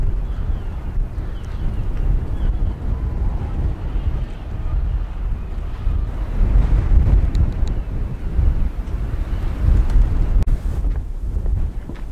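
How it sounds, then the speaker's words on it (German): Strong gusting wind on the Norwegian island of Selvaer near Traena, peaking around 55 km per hour, roaring and buffeting the microphone in a continuous low rumble that swells and eases, with no voices. "Strong wind with peaks up to 55 km per hour made fishing impossible the next day."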